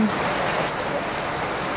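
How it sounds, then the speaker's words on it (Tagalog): Heavy rain pours steadily in Siargao, a dense, even hiss of water with no breaks, loud and close. "Oh, lakas-lakas ng ulan."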